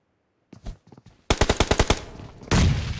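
PUBG Mobile gunfire: a few soft scattered shots, then a rapid burst of about eight loud automatic rounds, followed by a sustained blast of noise at the end, close with no talk.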